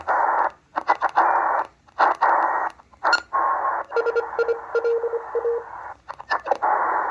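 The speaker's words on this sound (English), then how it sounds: "That's a Morse code station on the bottom of the 40-meter band." Morse code station at the bottom of the 40-meter amateur band, received on an XHDATA D808 shortwave radio: static and tone bursts switch on and off in irregular dots and dashes, with a steady beeping tone partway through.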